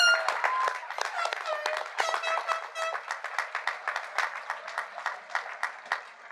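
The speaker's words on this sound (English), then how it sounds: "Please give a final round of applause for our 2023 Senior High Honors graduates." Audience applause for the 2023 senior high honors graduates at the Murphysboro High School graduation ceremony, with scattered claps, voices and shouted cheers on top, settling into a fainter, uneven patter of hands.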